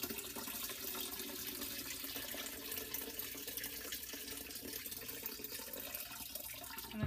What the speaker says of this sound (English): pull this out, let it drain.